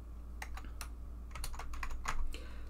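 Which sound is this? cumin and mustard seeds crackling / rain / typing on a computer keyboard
typing on a computer keyboard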